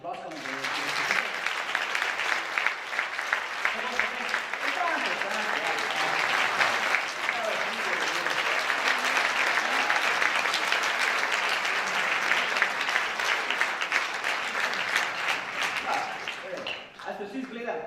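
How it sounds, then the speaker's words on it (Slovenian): An audience claps at length for the Big Band Bled in a festival hall, dense sustained applause building and holding for many seconds before tapering off at the end. "lahko malo zaploskamo"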